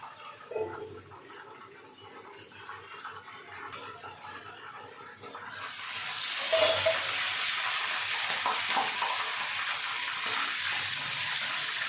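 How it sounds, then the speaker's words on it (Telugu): Chicken leg pieces fry in a pan, with a faint crackle that swells midway into a loud, steady sizzling hiss, with no talking. "లెగ్ పీసులు కూడా ఇంకా కొంచెం చేపించాను, ఇలా సైడ్కి కదా, అన్ని సైడ్కి తీసుకుంటేనే బాగా కాలుతాయి."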